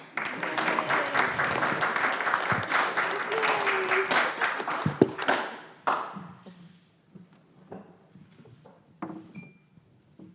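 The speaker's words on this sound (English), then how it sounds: "Perhaps a round of applause." Audience applause at an evening Speakers of Truth event, a dense burst of clapping for about five seconds, fading into scattered claps and room noise, with faint voices underneath.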